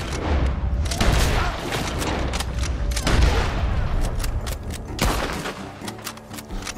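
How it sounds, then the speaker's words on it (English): Rapid bursts of gunfire from the video game Red Dead Redemption 2 crackle almost continuously, with heavier booming shots mixed in, loud and close throughout. "Gunshots are coming from that barn."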